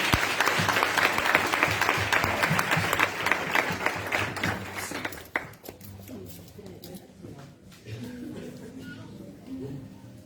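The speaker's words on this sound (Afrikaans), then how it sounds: "Kom ons gee julle hande klap." An audience at a dedication service for the Smith family bursts into dense, sustained applause that fades after about five seconds, leaving scattered claps and murmured voices in a reverberant hall.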